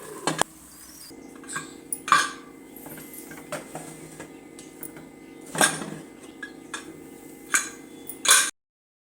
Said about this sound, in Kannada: ಈಗ ಕುಕ್ಕರ್ ಕ್ಲೋಸ್ ಮಾಡ್ತಾಯಿದ್ದೀನಿ